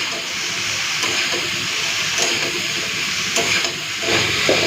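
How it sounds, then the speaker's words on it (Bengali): Mixed vegetables seasoned with salt and turmeric fry in a pan, a steady close sizzle broken by intermittent stirring scrapes and small knocks of the spatula. "ভালো করে একটু নিয়ে সবজিগুলোকে ভেজে নেব"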